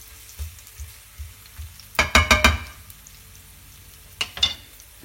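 Shallots sautéing in a pan for Italian peperonata: a soft steady sizzle broken by a few louder bursts of stirring and scraping, close up and without speech.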